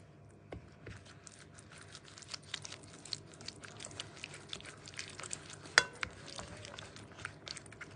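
Soft wet scraping and stirring as a spoon spreads a paste of tomato sauce, olive oil, turmeric, curry and potato spices over chicken in a potato tray, with scattered light clicks of cutlery and no talk.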